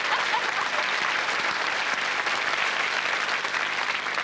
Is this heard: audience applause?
yes